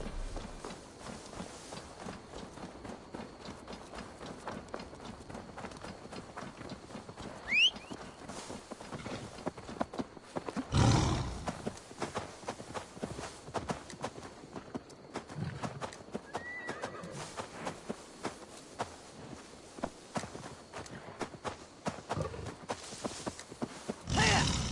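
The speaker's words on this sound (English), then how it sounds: "deliver Magni his horse" Horse hooves clip-clop steadily with a whinny partway through, over a busy layered Assassin's Creed Valhalla game soundscape with occasional louder thumps.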